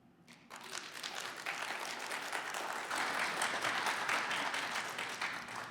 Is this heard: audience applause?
yes